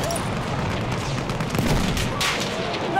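Battlefield 1 combat on the Suez front: a muffled grenade blast and rumbling booms mixed with continuous distant gunfire, a dense, churning battle din with no clear gaps.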